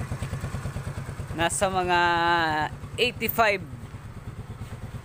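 A Rusi Royal 125cc motorcycle engine runs with a steady low pulsing throb through the clip, while someone talks over it in bursts.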